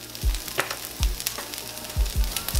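Simply Potatoes frying in a pan for a breakfast bowl: a steady sizzle with several soft low knocks or stirring thumps spaced irregularly, close and moderately loud, with no talking.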